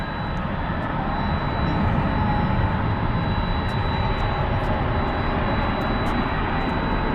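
A jet airliner at DFW Airport, most likely an A350-1000, roars in a loud, steady, broadband engine rush that holds without a break throughout.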